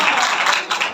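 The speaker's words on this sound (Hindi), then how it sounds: "अपने लिए भी जोर से तालियां बजाएं।" A church congregation claps loudly during a Sunday service, a brief burst of dense, close applause from many hands with no talking over it.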